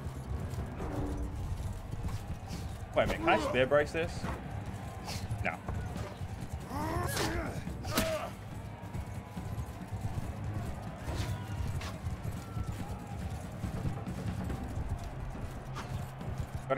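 Horse hooves clip-clop in the medieval video game Mount & Blade II: Bannerlord, a quick rhythmic patter that surfaces in short bursts under steady background noise. Someone speaks briefly over it.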